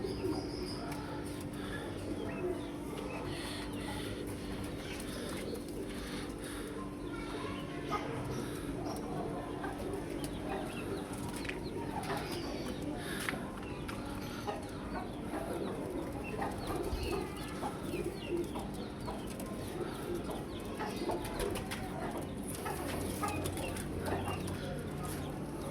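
Kept pigeons coo softly and repeatedly, mixed with other bird calls over a constant dense background din that lasts throughout.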